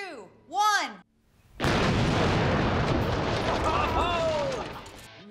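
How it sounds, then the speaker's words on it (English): Binary explosive, about 200 pounds packed into a car and set off by detonator, erupts in one huge blast that roars on as a long, dense rumble after a brief exclamation beforehand; a voice whoops during the tail. "that was a massive explosion."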